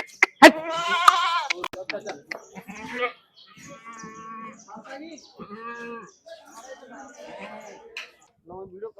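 A goat bleats loudly a few times up close at a goat market, with people talking nearby between and over the calls.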